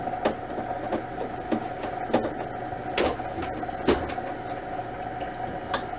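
Ink cartridges click into place in an HP Officejet 6978 printer: a series of short, sharp plastic snaps spaced irregularly over a faint background hum, with no talking.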